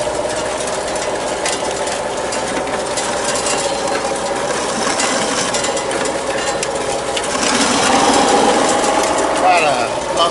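Screening machine with an auger and a rotating barrel runs with a continuous mechanical whirr and rattle. It grows a bit louder toward the end, with no clear talk over it.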